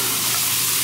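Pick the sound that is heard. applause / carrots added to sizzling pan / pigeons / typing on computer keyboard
carrots added to sizzling pan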